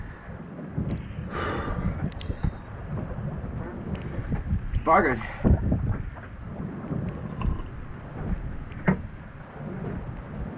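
Severe storm at an anchorage with heavy rain and strong wind gusting around 40 to 50 knots, a rough buffeting roar with wind thumps against the microphone, and a voice briefly heard over it.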